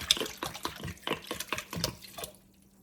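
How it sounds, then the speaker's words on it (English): Bleach glugs out of a bottle into a container of water for soaking a loofah sponge, a close rhythmic series of pouring bursts that trails off to silence. "we're going to pour bleach in here."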